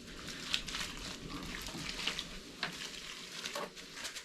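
Whisk working through thickening malt in a brewing pot for a coconut porter, producing soft scraping swishes with a few sharper clinks against the pot, moderately quiet and close.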